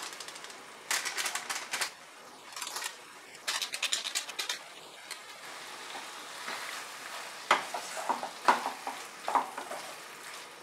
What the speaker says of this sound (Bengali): দই দিয়ে যে কষানো গ্রেভিটা আমি মাখিয়ে নিচ্ছি।